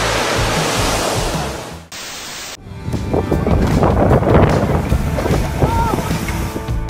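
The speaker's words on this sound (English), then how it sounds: "Don't go boating when the waves are that high, please." Rough ocean with high waves around a small boat at a beach, a loud, steady roar of surging water and wind buffeting the microphone, broken by a brief cut partway through before the churning wash resumes.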